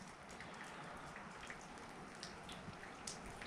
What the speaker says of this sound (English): as you can see, it's raining now